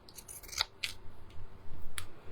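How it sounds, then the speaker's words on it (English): Pinking shears snipping through fabric during a craft project, a few quick crisp cuts close up, separated by short pauses, with faint room noise between them. "I would just cut like this with my little pinking shears"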